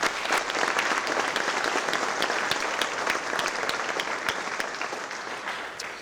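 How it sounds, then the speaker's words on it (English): A crowd applauds steadily throughout at a police swearing-in ceremony, a dense wash of clapping hands that holds at an even level and fades slightly toward the end. "one more round of applause for the recruiters and the training unit"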